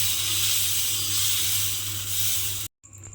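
Dosa batter for potato dosa sizzling and hissing loudly on a hot pan, a continuous close frying hiss that cuts off abruptly before resuming.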